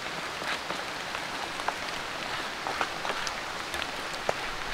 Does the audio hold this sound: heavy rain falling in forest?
yes